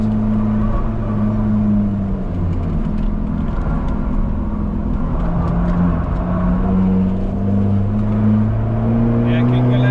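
A Skoda Fabia vRS engine drones and pulls steadily in fourth gear around the Nürburgring, its tone rising gradually under a continuous in-car rumble, with people talking over it.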